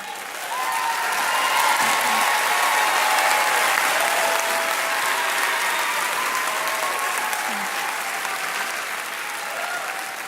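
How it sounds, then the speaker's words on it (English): An audience at The Apprentice School's 2017 graduation ceremony gives a sustained wave of applause that swells and holds steady for about ten seconds, with faint crowd noise beneath. "let your applause rip"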